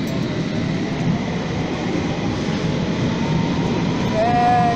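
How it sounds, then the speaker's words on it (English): A London Underground Metropolitan line train arrives at a station, a loud continuous rumble and rolling roar with a rising whine near the end, with faint talk in the background. "That's the next train."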